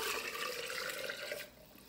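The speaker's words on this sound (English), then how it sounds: "And then we're gonna pour this" Warm brown sugar brine pours steadily over meat, a continuous close liquid splash for about a second and a half that then drops to a quieter trickle.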